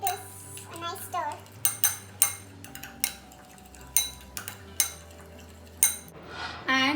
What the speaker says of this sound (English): I will give this a nice stir.